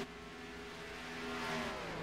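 Race cars in a racing video game drone along the track near pit road, a faint steady engine whine that swells slightly toward the end.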